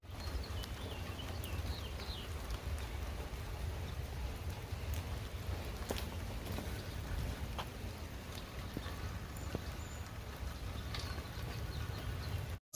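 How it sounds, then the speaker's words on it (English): Steady rain falling outdoors in Washington, DC, a continuous dense patter with scattered sharper drip hits throughout, fairly loud and close, with no one speaking. "It's raining in DC."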